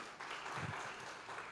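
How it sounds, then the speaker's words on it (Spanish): A church congregation applauds during an evening Christian service, the clapping steady and diffuse like a distant crowd, heard faintly in the room without talk. "denle un aplauso a esta valiente"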